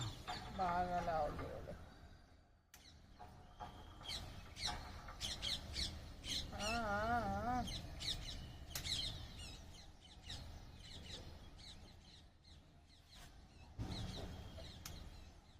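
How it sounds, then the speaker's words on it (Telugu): Birds chirp and squawk steadily through the clip in a rooftop vegetable garden, fairly close, with a person talking at times over the calls. "కిలకల్లా ఆడుతున్నాయి పక్షులు"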